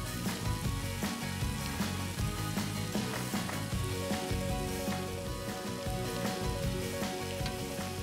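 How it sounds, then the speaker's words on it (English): Pasta water hitting a hot pan of rigatoni and greens, with a loud, close, continuous sizzle and bubbling frying hiss plus some stirring, and no talking. "you wanna add the pasta water because it creates a sauce"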